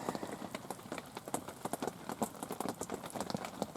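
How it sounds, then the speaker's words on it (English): Steady rain falling at a lake in France during a carp fishing trip, a dense patter of close drops hitting surfaces with no voices. "it rained all last night and all day, and it hasn't stopped for not even a minute."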